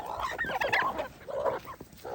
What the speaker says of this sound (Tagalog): Marami na sana itong ating mga alaga manok na ito.